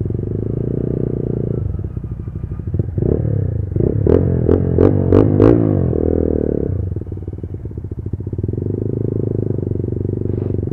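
A motorcycle engine held against its rev limiter beside a lakeside road near sheep, a loud close idle rising into a fast stuttering, crackling burst of cut-outs at high revs before settling back to a rumbling idle.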